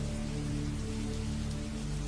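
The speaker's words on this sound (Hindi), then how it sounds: "आज तो पूरी रात बारिश होगी लगता है।" Heavy night rain in a cartoon pours down in a dense, continuous hiss of drops on surfaces, steady and fairly close, with a low hum beneath and no voices.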